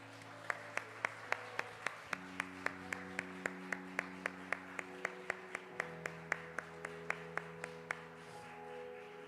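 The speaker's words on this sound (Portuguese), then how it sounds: "Louve o Senhor com as suas palmas." A church congregation at a family worship service claps in a steady, even beat over sustained keyboard chords, each clap crisp and regular throughout.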